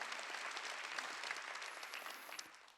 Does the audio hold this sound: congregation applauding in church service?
yes